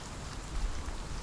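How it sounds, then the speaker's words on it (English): Brief wash of falling rain in Hellblade: Senua's Sacrifice, a quiet continuous hiss with a faint low rumble beneath, heard alone. "That rain sounds refreshing."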